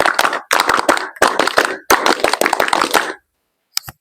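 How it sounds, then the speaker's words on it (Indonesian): A group does the Pramuka scout clap twice in a row, each round a set of loud, rhythmic clapping bursts in quick patterned groups, followed by a short pause and a brief final clap. "Dua kali tepuk pramuka."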